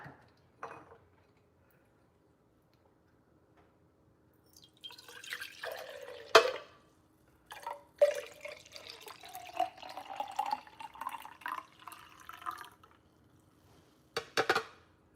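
Green juice is poured into bottles in a kitchen: quiet, intermittent liquid trickles and splashes in several bursts with short gaps, plus a couple of light clinks of glass, close and fairly faint.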